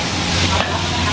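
Food sizzles and fries loudly in a hot wok as green onions and a large seafood medley go in together, a steady close crackle lasting about a second with no talk.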